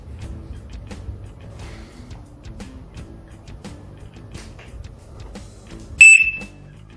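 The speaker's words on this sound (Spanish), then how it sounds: "ahí activamos la alarma" A DEO Akira motorcycle alarm siren gives one loud, sharp electronic chirp near the end, after quiet clicking and handling noise on a workbench.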